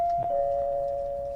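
A doorbell chimes once at a house gate, a steady sustained electronic tone that holds clearly for over a second with no talk over it.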